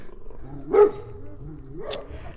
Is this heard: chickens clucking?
no